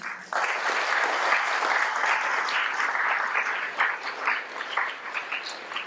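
Students and guests at a Grant High School Armenian Genocide commemoration assembly applaud the club executives and members, a steady, full round of clapping from a large room that carries on for several seconds.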